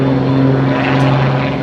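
An MX-2 aerobatic propeller airplane with a front engine modified by Micron Engines in California drones loudly and steadily overhead at an air show, a strong buzzing engine tone with a steady low hum.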